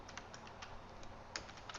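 Keys clatter on a computer keyboard while text is typed for a YouTube thumbnail design, a quick run of soft clicks with one sharper tap near the end, close and fairly quiet over a faint steady hum.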